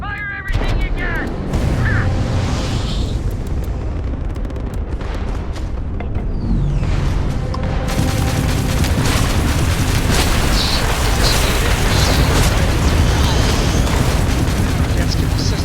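Spaceship weapons fire and explode in a Starfield space battle, a dense, continuous roar of blasts and booms that swells louder after the midpoint, with voices mixed in underneath.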